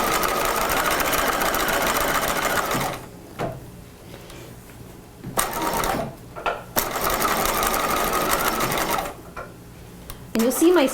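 Sewing machine running under pedal control while stitching and backstitching a seam on a cropped retro jacket, in several bursts of steady whirring separated by short pauses, with a person talking between runs.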